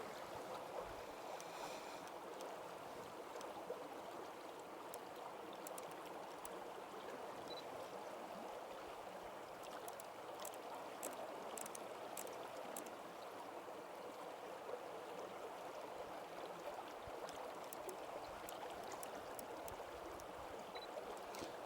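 A woodland stream flows past a covered bridge, a steady broadband rush of moving water that stays constant and moderately loud throughout with no talking.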